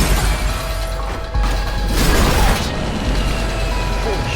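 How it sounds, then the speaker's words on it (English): A film explosion aboard a plane carrying prisoners: a sudden heavy boom with rattling, shattering debris and mechanical noise that sustains for several seconds, with a voice faintly present. "He chose to wait for an explosion."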